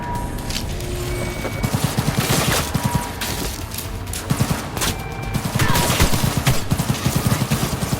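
Rapid gunfire bursts from the video game Cyberpunk 2077, dense automatic volleys with booming impacts running continuously throughout, loud and without speech.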